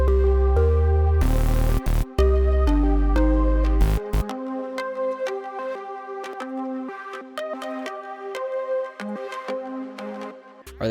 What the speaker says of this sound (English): Got this pluck, Space Frog.